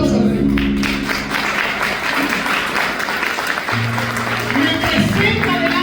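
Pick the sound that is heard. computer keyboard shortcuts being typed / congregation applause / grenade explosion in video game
congregation applause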